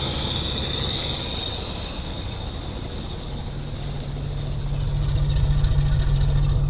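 An old Jeep engine, just fired up on aged fuel, idles with a steady low rumble and a faint high whine, growing slightly louder and rougher toward the end.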